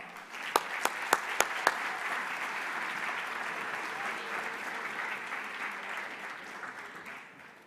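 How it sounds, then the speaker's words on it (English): An audience at a conference plenary bursts into sustained applause, opening with a few sharp individual claps before a broad, steady wash of clapping that tapers off toward the end. "Well, please give her a round of applause."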